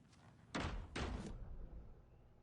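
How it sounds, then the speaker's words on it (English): Two heavy bangs on a door in Alan Wake II, close and loud, about half a second apart, followed by a fading rumble and quiet room tone. "What is the point of you banging on the fucking door?"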